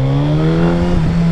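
Hayabusa motorcycle engine revving hard as it accelerates, a loud, steady, near roar with rising harmonic tone over about a second and a half, no talking.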